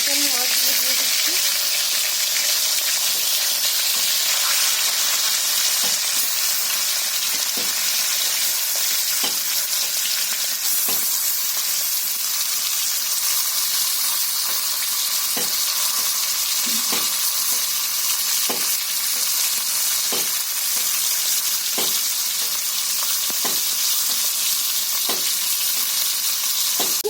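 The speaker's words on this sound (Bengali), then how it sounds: "কড়াইতে আমি মাছগুলো দিয়ে দিচ্ছি।" Katla fish pieces frying in oil in a wok produce a loud, continuous hissing sizzle with regular sharp clicks and spatters throughout a long stretch.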